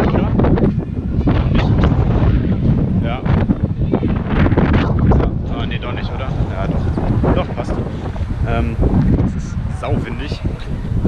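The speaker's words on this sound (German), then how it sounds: "Weil es einfach so windig ist, da weiß ich nicht, ob die Kamera jetzt die Windunterdrückung da vernünftig arbeitet" Strong wind buffets the camera microphone on a Wellington waterfront in New Zealand, producing loud continuous rumbling gusts, with a voice speaking underneath.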